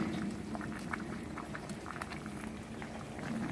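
Spaghetti boils steadily in a pot, a continuous dense bubbling and rolling simmer with light scattered pops and faint clinks of stirring, close and even throughout.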